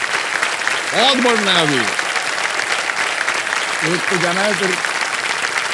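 A studio audience on the Hindi quiz show Kaun Banega Crorepati applauds a contestant. The clapping is broad and sustained while someone speaks briefly over it at two points.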